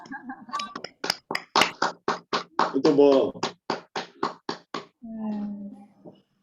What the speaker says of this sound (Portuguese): dar uma salva de palmas